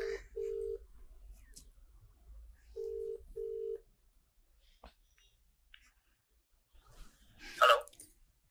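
A phone on speakerphone dialing a call, with four clear DTMF key tones in two pairs of beeps, then a brief burst of ringing or connection noise near the end, heard close and alone.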